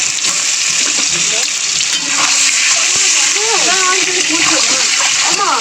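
An omelette of beaten egg frying in a hot pan, with steady broadband sizzle and splattering throughout, close and loud, while a voice talks over it.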